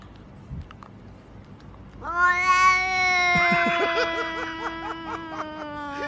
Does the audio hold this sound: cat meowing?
yes